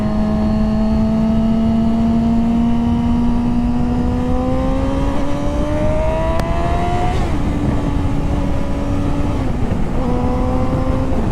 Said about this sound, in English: Oh, I love the lean angle on this bike.